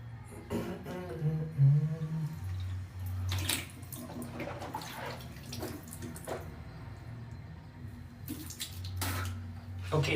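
Water running from a tap into a basin, a continuous rushing splash with some brief louder bursts and clatters, heard close with no talking.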